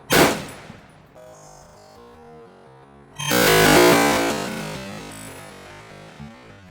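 A 1943 Springfield Armory M1 Garand rifle fires 30-06 rounds outdoors, with one sharp loud blast at the start and a second broad, heavy report about three seconds later that rings out and slowly fades.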